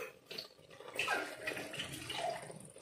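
Water poured into a pot of mutton curry frying with garlic, cumin and onion paste, a soft continuous splashing and sizzling stream heard close but fairly quietly, with no speech.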